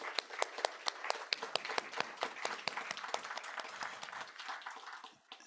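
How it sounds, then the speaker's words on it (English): Audience applause for a school department Teacher of the Year award recipient at a school committee meeting, steady dense clapping from a crowd filling the room, tapering slightly near the end. "let's give him a huge round of applause"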